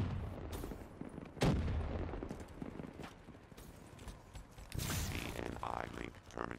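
Gunfire crackles in a Black Ops 3 team deathmatch, with loud bursts of shots and other game sounds layered under a player's talk.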